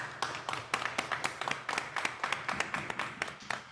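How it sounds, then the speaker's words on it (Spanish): Applause for the chroniclers during a special anniversary broadcast: a few people clap in a quick, even rhythm, faint and somewhat distant, with no voices over it. "un gran aplauso para nuestros cronistas."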